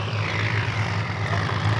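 A tractor engine runs in a mustard field, a loud, steady low drone with a constant throb that holds unbroken throughout.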